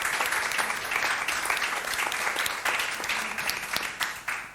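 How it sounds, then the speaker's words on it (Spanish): Audience applauding at an astrophysics and literature talk, a dense burst of clapping from a seated crowd that continues for several seconds before tapering off. "un aplauso para ella"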